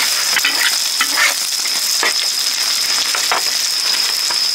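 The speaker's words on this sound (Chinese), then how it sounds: "这边是油炸的第一遍啊" Hornets deep-frying in hot oil in a rural Hunan kitchen, a steady close sizzle and crackle with brief bursts of popping and stirring scrapes, loud and continuous with no talk.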